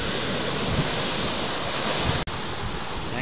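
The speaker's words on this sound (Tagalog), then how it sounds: "Grabe yung alon, Angelo, shh!" Ocean surf breaking steadily on the shore at Agoo, La Union, a continuous broad wash of waves with gusty wind buffeting the microphone and a brief dropout near the end.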